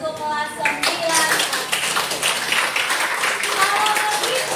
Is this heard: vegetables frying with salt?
no